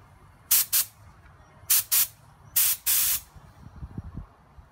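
A spray gun puts base paint on a mirror cover in three short paired bursts of loud, close hissing, each separated by brief quiet.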